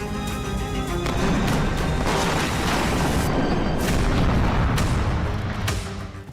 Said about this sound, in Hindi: ईरान में जहां देखिए सिर्फ बम विस्फोट हो रहे हैं,